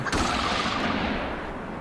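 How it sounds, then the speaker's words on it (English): A single loud gunshot in a turkey hunting video game cracks at the start and rolls into a long, booming echo that slowly fades. "Sounded like somebody took a shot or something."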